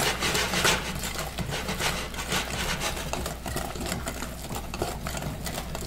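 Cornbread batter is stirred roughly by hand in a bowl, making a continuous close, scraping, rubbing churn with an uneven rhythm.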